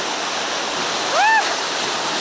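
Heavy sea waves roar steadily against the shore at Budva, a loud continuous wash, with a brief voice cutting in partway through.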